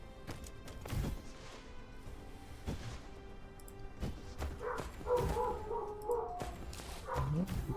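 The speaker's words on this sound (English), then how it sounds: "Excited dogs in the background, if you can hear that." Excited dogs bark and yip intermittently in the background, faint and somewhat distant, scattered sharp yelps spread across the stretch alongside clattering and a low steady hum, with no one speaking.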